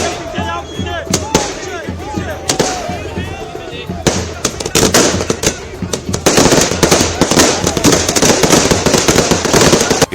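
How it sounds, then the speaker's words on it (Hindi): Firecrackers set off by BJP workers celebrating Delhi election results crackle in dense, rapid bursts, loud and close, growing into a continuous barrage while a crowd shouts underneath. "उसके कार्यकर्ताओं ने पटाखे छोड़ने शुरू कर दिए"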